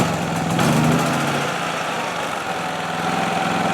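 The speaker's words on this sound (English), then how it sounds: "The generator is now running off the remote tank." An Onan P4500i generator running from a remote fuel tank holds a steady, close engine drone with a low rumble and a faint mechanical hum, with no voices over it.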